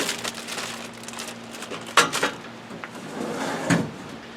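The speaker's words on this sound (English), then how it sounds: "Then you have your pull-out drawer here, where you can keep your stuff that you use out here." A pull-out drawer in a 2022 Forest River Grey Wolf Limited camper is opened and closed, giving two sharp slides and knocks separated by quiet rustling, close and fairly loud.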